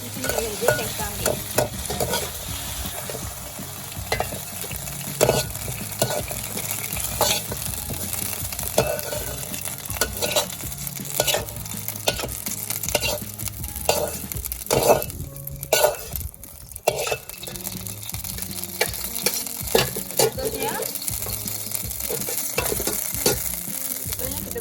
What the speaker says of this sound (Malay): Kita goreng, kita layu saja, tak perlu goreng lama.